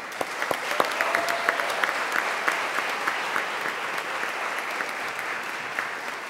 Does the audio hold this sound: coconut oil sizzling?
no